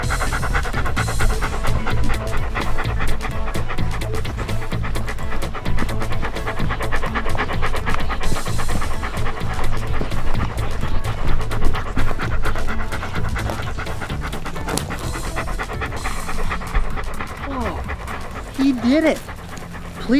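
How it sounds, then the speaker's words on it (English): A police dog pants loudly and close by in rapid, rhythmic breaths that continue without a break, with light scratching and a few small whimpers near the end. "Police dogs have really sensitive noses,"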